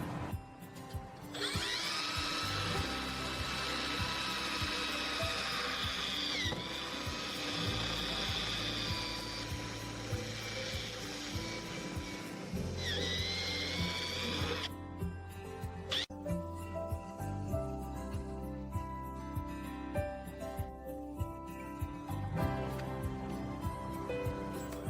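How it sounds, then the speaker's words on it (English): Power drill boring holes through the side door of a Mercedes Citan, Nissan Townstar or Renault Kangoo van, a loud whining motor rising and falling in pitch across several bursts, then steadier ticking mechanical noise toward the end. "Drill all 3 holes in the side door all the way through."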